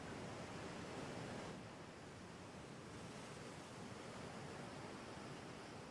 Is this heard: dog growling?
no